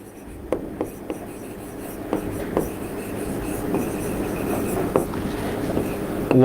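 Pen or chalk scratches across a board during a physics lesson on vectors, with short tapping strokes and steady scraping over a low room hum, close and moderately loud.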